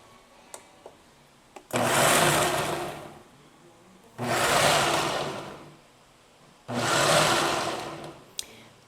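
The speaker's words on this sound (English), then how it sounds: "This is a new Ninja. It has this setting now where it blends and stops, blends and stops." A Ninja blender pulse-chops dates and nuts in three loud bursts of about two seconds each, with short quiet pauses between them and no talking.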